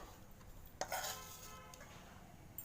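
A utensil scrapes and clinks against a pan as potatoes fry for a pepper and black salt aloo side dish, with one sharper knock and a soft sizzle beneath, quiet and close.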